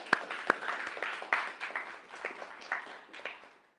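Applause from a small audience at a Rust Munich 2025 meetup, light scattered clapping that starts with a few distinct claps and thins out toward the end, fairly quiet.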